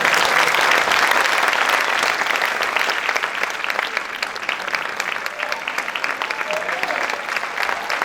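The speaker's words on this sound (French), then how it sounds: "Les applaudissements pour Walid Regragui et ce message plein d'espoir et de sincérité et de partage aussi" Sustained applause from an audience at a talk by the Moroccan national football team coach to university students, dense and steady throughout with a slight easing toward the end.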